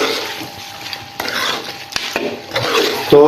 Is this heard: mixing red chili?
yes